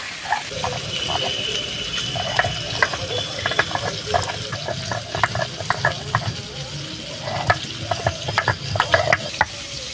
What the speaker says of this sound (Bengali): ওইদিকে মাছ ভাজা হতে হতে এইদিকে আমি মশলা বাটবো।